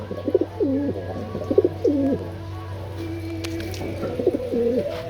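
Breeding pigeons, a hen and a cock, coo in a loft in repeated rolling phrases, close and clear over a steady low background hum.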